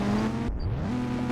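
Car engine hum heard from inside while driving, a steady low drone with a brief dip and a slight swell at the end, no talking.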